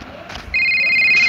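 A phone rings in the video game Rope Hero: after a brief stretch of muffled background noise, a loud, steady electronic ringtone starts partway through and holds to the end.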